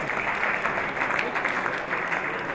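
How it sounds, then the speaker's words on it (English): An audience at a gala dinner and award ceremony applauds the sales promotion winners with steady, dense clapping that holds at an even level throughout. "let's give them an applause for all the winners in sales promotion"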